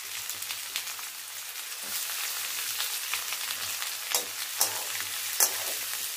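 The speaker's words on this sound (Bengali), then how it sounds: "এবার পেঁয়াজটা দিয়ে দেবো।" Sliced onion and garlic sizzle and fry in hot oil in a pan, a soft continuous crackle with sharper spits and occasional stirring scrapes, close and moderately quiet.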